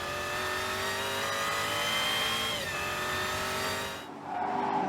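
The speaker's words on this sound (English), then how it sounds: "she's off in a cloud of V8 crackle and fury" Jaguar XE SV Project 8 with its 592-horsepower V8 and 8-speed gearbox screams at sustained high revs on a race track, loud and steady, then briefly dips before surging again.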